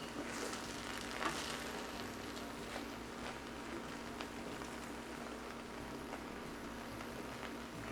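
Rice sizzles in a pot in a home kitchen as it is stirred, a steady faint crackle with light scraping, no voices.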